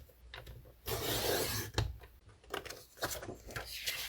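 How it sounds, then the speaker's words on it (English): A paper trimmer cuts cardstock to size at close range: a long rasping slide of the blade, then a sharp snap and lighter scraping strokes, with no talk. "So I'm just going to trim a 5-inch here."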